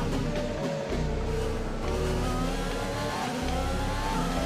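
A race car engine in the Russian Grand Prix of a racing video game, revving hard and close throughout, its pitch climbing and dropping through gear changes and turns, loud and continuous with no talk over it.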